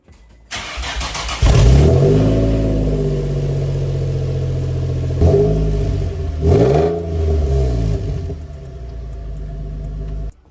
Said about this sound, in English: I'm gonna go ahead and start the car and try to see how it sounds